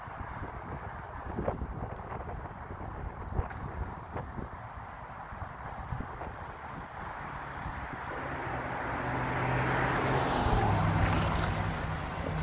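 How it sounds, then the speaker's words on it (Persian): A car passes on a street near a bus stop at night, its broad road noise swelling from around eight seconds and peaking near ten to eleven seconds over steady wind-buffeted outdoor ambience. "ماشینی که از جلو رد شد"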